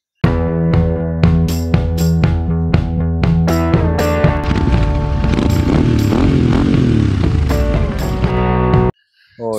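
Factory AK47 250 motorcycle being ridden, its engine revving loud and close with rising and falling pitch, a steady harmonic drone that builds and shifts before cutting off abruptly near the end.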